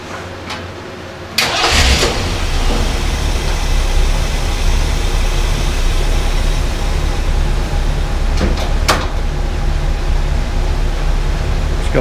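The 429-4v V8 of a 1969 Mercury Marquis Brougham cranks briefly on a push button and catches, then settles into a loud, steady idle close by. Brief clicks and knocks sound over the running engine.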